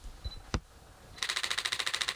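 Canon EOS R7 shutter firing a rapid high-speed burst, a dense machine-gun-like rattle of evenly spaced clicks at about 30 frames per second, close and loud after one sharp single click.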